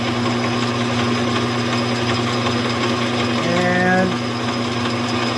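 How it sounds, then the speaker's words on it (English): A drilling machine runs steadily while drilling into a metal collar for an eye flap, giving a continuous mechanical drone with a steady hum. A voice briefly speaks over it. "so we start the machine, and we drill."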